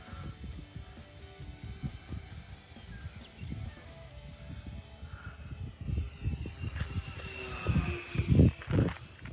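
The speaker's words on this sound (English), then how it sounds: "I'm gonna bring it back to about half throttle and we'll do a pass here." A Flightline OV-10 Bronco electric RC plane makes a half-throttle pass in a crosswind, its motor whine rising and swelling as it approaches, loudest near the end, over steady outdoor background noise.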